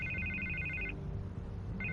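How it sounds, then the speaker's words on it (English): A telephone rings in a Batman Telltale video game, two bursts of trilling electronic ringing separated by a short gap, sitting at moderate level over a low background. "I can't get the phone to stop ringing"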